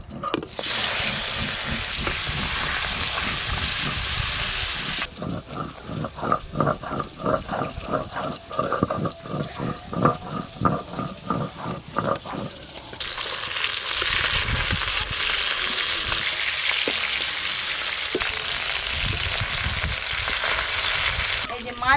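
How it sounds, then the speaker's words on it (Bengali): Fish frying in hot oil in a pan, with a loud continuous sizzle and hiss; a stretch in the middle turns choppy with rapid crackling and stirring before the steady sizzle returns. "এবার মাছ ভাজা শুরু করব।"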